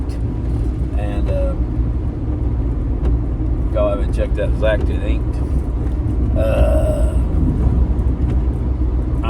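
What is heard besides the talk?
car driving through town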